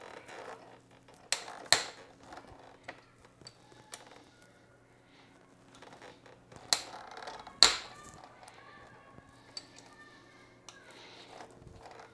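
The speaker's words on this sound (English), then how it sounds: "So we already slightly loosened this Allen bolt here that used a 6mm Allen key." Metal tool clicks and creaks as an Allen key works the fork bolts on a Honda Grom motorcycle, with a few sharp ticks and scattered light mechanical taps over a quiet background.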